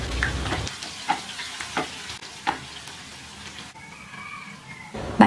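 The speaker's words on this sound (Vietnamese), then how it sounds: "mình sẽ cắt một ít hành củ và mình sẽ phi thơm để mình ăn cùng xôi" Sliced shallots fry in hot oil until fragrant, giving a steady close sizzle with occasional clinks and scrapes of stirring, and no voices.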